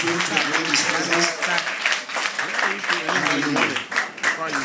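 A church congregation claps together in a sustained, loud wash of applause lasting several seconds, with voices mixed in.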